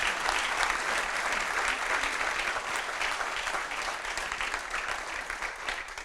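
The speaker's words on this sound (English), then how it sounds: "I didn't even have to announce the applause anymore" An audience claps together in sustained applause after a talk, a dense crackle of many hands that gradually tapers off.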